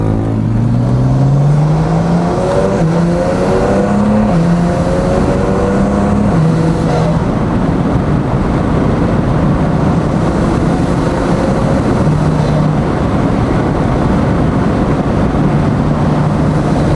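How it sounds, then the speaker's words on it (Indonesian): An upgraded 500+ hp performance car's engine, with intake noise, roars steadily at close range. Revs rise and fall in several sweeps before settling into a sustained loud drone, with no talking. "Suara intake gue suka banget."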